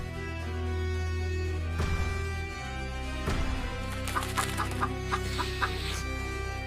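A hen clucks in a quick series of short, choppy calls over a steady background of music, moderately close.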